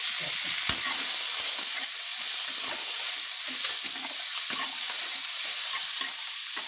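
Chopped onion and green chilies fry in hot oil for a prawn coconut curry, giving a loud, continuous sizzle close by with soft stirring scrapes and faint pops throughout.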